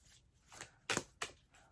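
Angel Therapy oracle cards being shuffled by hand, a few quick riffling bursts with one louder flutter near the middle, close and fairly quiet with no talking.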